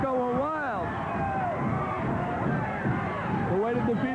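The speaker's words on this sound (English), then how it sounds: "This crowd is going wild." Crowd at a 1984 Montreal wrestling event roars and cheers throughout, with loud, excited voices swelling and a commentator talking over the noise.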